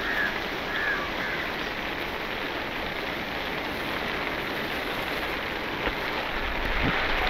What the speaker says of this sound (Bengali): বৃষ্টি নেমে গেছে, আর তার মধ্যে আমাদের বোট রাইড।